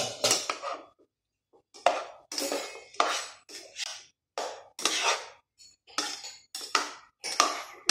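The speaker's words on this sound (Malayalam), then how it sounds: "ഇത് ഈ പഴത്തിൻ്റെ കളറ് മാറുന്നത് വരെ ഇങ്ങനെ ഇളക്കി കൊടുക്കാം." A utensil clinks and scrapes against a pan while banana is stirred until it changes colour, giving bursts of metallic tapping and scraping in an irregular rhythm with short pauses, close and moderately loud.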